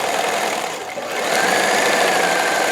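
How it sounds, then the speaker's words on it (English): A domestic sewing machine stitching metallic thread through duvet cover fabric runs flat out, a loud close continuous whirring drone that dips briefly before settling back to full speed. "I can actually sew at a really good clip."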